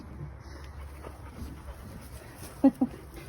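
A dog pants softly nearby, followed by two short whimpers near the end, with faint background noise.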